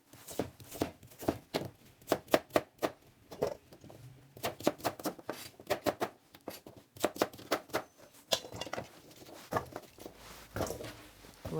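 A knife cuts radish into 5 cm pieces for a Dolsan mustard-leaf kimchi seasoning, a quick series of crisp chopping knocks on a board coming in bursts with short pauses, close and fairly quiet.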